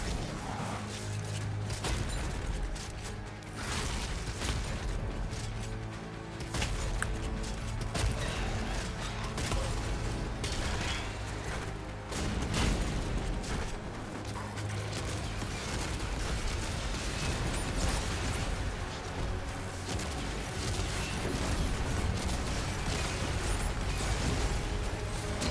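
Grenade launcher fire in DOOM: The Dark Ages, heard as repeated thumping shots and explosions in a dense, continuous din of combat noise and music that stays loud all the way through.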